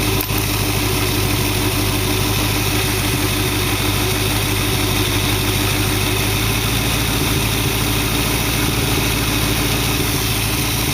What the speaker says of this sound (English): See if I can bring this to idle.